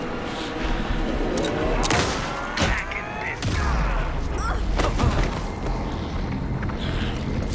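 Gunfire and booming impacts from the video game Alan Wake 2 during a boss fight: repeated sharp bursts and blasts over a dense, loud soundtrack of game effects.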